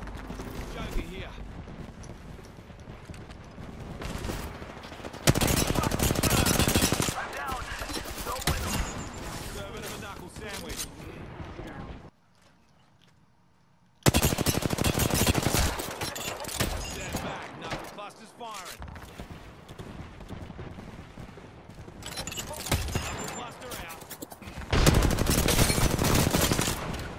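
Gunfire during an Apex Legends match, several loud bursts of automatic fire and shots spread across the span, broken by a short quiet gap, with a voice talking in places.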